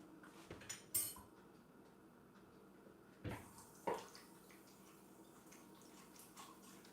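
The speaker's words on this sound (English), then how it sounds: "Had to settle for a rinse because the sink is like full." A cup gets a quick rinse at a crowded kitchen sink, with faint running water and a few sharp clinks of the cup knocking against the basin and dishes, quiet and close with no talk.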